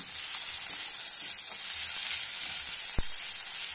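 Ginger and cumin paste frying in hot oil for a fish curry gives a steady, close hiss with faint stirring, and a single sharp click near the end.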